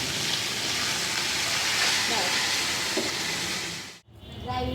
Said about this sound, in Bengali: এই যে এবার মাথাগুলো উল্টে পাল্টে নিচ্ছি, ভালো করে ভাজতে হবে